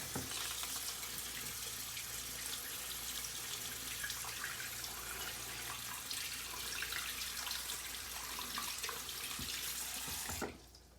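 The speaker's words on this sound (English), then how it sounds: "I'll rinse it off." Tap water runs steadily into a sink while a silver coin is rinsed under the stream, a constant close splashing rush that cuts off abruptly near the end.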